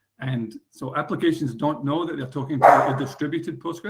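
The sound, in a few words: dog barking in the background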